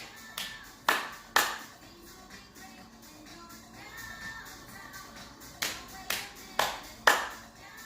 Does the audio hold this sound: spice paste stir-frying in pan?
no